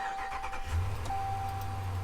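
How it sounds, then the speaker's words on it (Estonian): A Ram 1500 pickup truck's large engine turns over and catches, settling into a deep, steady rumble with a faint constant tone above it. "siuke jõus suure mootori hääl tuli"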